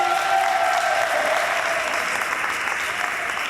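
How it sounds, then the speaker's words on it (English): Steady, dense audience applause for a school superintendent at an Earth Day press conference, a continuous wash of many hands clapping at even loudness throughout, with no voices over it. "Let's give him a round of applause, please."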